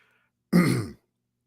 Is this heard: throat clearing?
yes